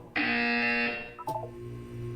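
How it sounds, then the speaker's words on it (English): A loud electronic buzzer sounds in the video game Portal 2, a harsh sustained tone lasting about a second before cutting off, followed by a brief clunk and a lower lingering hum. "When you hear the buzzer, look down at the floor."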